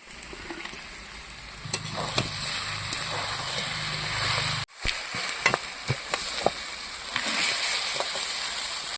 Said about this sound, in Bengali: মাছের মাথার সঙ্গে একটুখানি বাঁধাকপি ভেজে নেব